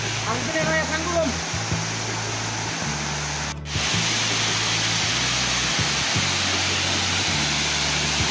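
A waterfall at Birendra Para, heard as a dense, continuous broadband rush of falling water close by, with a steady low rumble underneath and faint voices talking over it.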